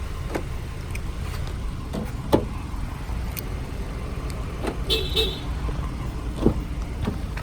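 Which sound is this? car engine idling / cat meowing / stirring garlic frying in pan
car engine idling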